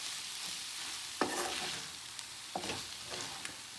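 Ground meat stirred in a frying pan, a steady sizzle underneath with a few distinct scraping strokes of the spoon through the meat, close and moderately loud, no talking.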